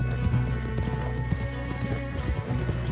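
Horses galloping in the video game Red Dead Redemption 2, with steady, fairly loud clip-clop hoofbeats running through the whole stretch and a soft whinny rising briefly over the dense rhythm.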